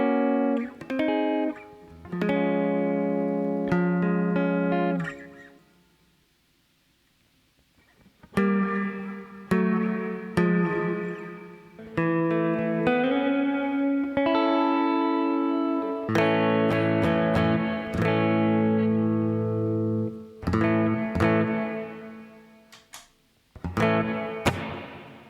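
Electric guitar plays sustained chords and picked phrases with a washy, lingering reverb tail, pausing briefly into near silence midway.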